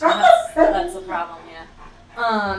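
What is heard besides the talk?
dog screaming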